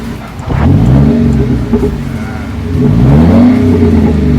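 A Mercedes-Benz W204 fitted with an electronic exhaust speaker system revs loudly with a deep, rumbling exhaust tone and simulated backfire, rising and falling in pitch through a couple of throttle blips.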